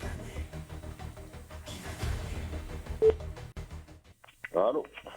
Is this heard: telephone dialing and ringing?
yes